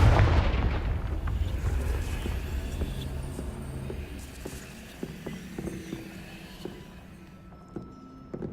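A fiery blast spell erupts with a deep booming rumble in the Hogwarts Legacy video game, then rolls off into a lingering low roar with faint scattered impacts and clicks as it fades.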